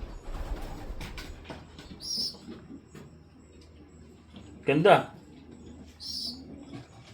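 Soft racing pigeon cooing in a loft comes in a few short bursts, close by, while people talk over it.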